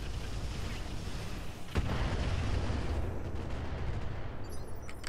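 Mech weapons firing in Roguetech, a BattleTech mod, as a dense continuous roar of blasts and rumbling impacts with one sharper crack partway through, loud and sustained across the whole stretch.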